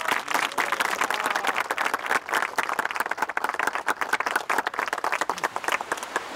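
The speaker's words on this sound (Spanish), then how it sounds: "Pido un gran aplauso para don Baltasar." An audience claps at a tribute to a departed family patriarch, a dense, lively patter of many hands holding steady for several seconds, close and uninterrupted by voices.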